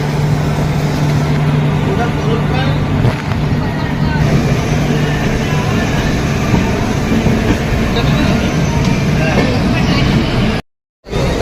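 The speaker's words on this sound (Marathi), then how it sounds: "ही ट्रेन निघाली आहे" The Madgaon Janshatabdi Express pulls away, a loud, steady rumble of wheels and carriage noise filling the whole stretch without a break until a short silent gap near the end.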